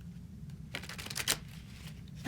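A deck of tarot cards is shuffled and cards are pulled, giving a short flurry of crisp riffling and slapping card sounds over a quiet low room hum, with no speech.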